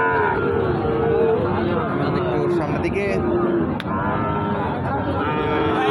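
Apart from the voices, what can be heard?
cattle mooing at a livestock market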